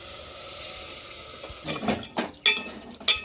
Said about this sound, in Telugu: ఉడవ పెట్టుకున్న మటన్ ముక్కలు వేసుకొని మొత్తం కలిపేసుకున్నాం